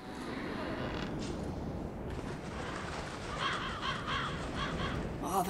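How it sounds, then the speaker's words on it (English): Crows in Dark Souls III caw several times at a middle distance, heard over rumbling game ambience with some speech-like sound in the mix. "Oh, the crows."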